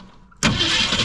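An abandoned 1964 Ford Fairlane Thunderbolt clone, unstarted for 29 years, suddenly cranks after a quiet moment, its engine noise loud, close and continuous.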